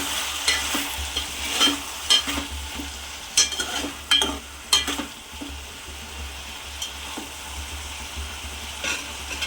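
Spoon scraping and clanking against a pan while stirring drumstick and tomato curry over a soft sizzle, with irregular sharp taps and scrapes spread across the stretch, close up and without talk.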